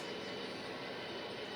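AWVR train hauled by T10 locomotives numbers 510 and 511 on a manifest freight, a steady broadband rumble of rolling cars and wheels, loud and continuous, with no talking.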